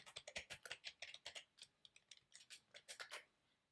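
Rapid keystrokes clatter on a computer keyboard as C code is typed into Dev C++, close and crisp in quick uneven bursts with no talking.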